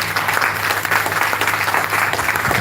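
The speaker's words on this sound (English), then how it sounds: "Clap her one more time." Audience applause at a handing-over ceremony for a hurricane recovery project, steady dense clapping from a crowd filling the whole stretch without talk.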